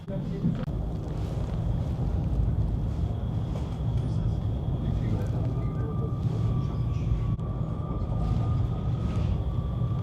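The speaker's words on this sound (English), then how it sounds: "we're currently on the train going to the beach" Continuous low rumble and rattle of a train interior rolling along the rails toward Jurmala beach in Latvia, steady and droning, with a faint tone in the background.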